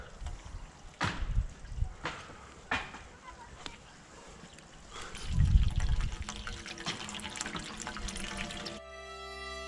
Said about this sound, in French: Et on va y mettre un gros coup d'arrosage.